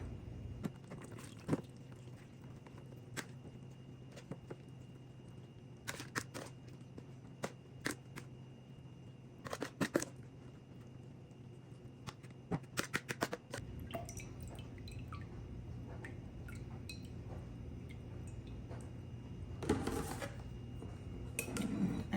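Juice drains from salted green tomatoes and onions through a strainer, a faint steady trickle broken by scattered clinks and scrapes of kitchenware, with a heavier pour of liquid near the end and no talking.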